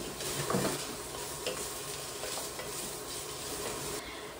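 Kielbasa frying in olive oil in a pan, a steady close sizzle with soft stirring scrapes throughout and no voices.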